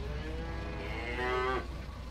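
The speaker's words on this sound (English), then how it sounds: "gotta open this back gate right here and get these cattle moving over" A single drawn-out moo from yearling cattle in Farming Simulator 19 while they are unloaded into a feedlot, rising in pitch and ending abruptly over a steady low rumble, clear and moderately close.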